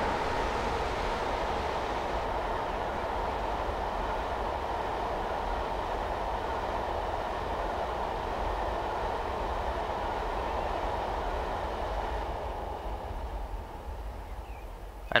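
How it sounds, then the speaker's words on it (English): A long express train with an inspection coach and two mail vans at the rear thunders past Shap Summit on the Glasgow–London line in Train Simulator 2018, a steady, close rumble of wheels and rail noise lasting throughout. "So there goes the express train."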